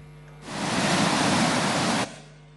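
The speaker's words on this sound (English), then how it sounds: "That is the magnificent Kentampo Falls, which is formed when the river Pumpu flows down rocky steps" Kintampo Falls, where the river Pumpu pours down rocky steps, sends up a loud, dense roar of falling water that swells in, holds steady for about a second and a half, then cuts off abruptly.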